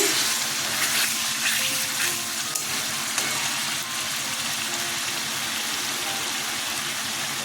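Water being poured into cooked spices in a pan, a sustained, fairly loud rushing sizzle and hiss that steadies after a brief surge, close, with no talking.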